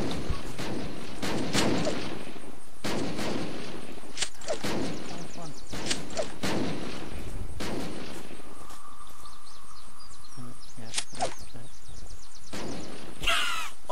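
Gunshots in the video game Unturned, sharp separate cracks spaced a second or two apart across the stretch, with a brief tonal game sound in the middle and a final burst near the end.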